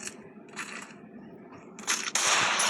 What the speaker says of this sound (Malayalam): വിഷുക്ക് പിന്നെ എല്ലാവരും പടക്കം പൊട്ടിക്കും.